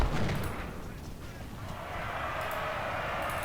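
Artillery fire in the Civil War strategy game Ultimate General: Civil War at the First Battle of Bull Run, a dense continuous rumble of distant cannon booms with a heavy onset that settles into a steady roar.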